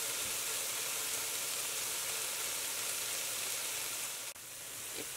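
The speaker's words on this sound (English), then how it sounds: "We are browning the sausage for our soup." Sausage browns in a soup pot, a broad, even hiss of sizzling fat that carries on steadily with a brief clink near the end.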